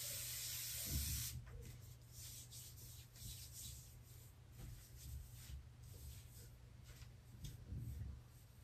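A short burst of aerosol sunscreen sprayed onto the back by a swimmer at a pool, an airy hiss at the start followed by soft rubbing sounds under faint outdoor background noise.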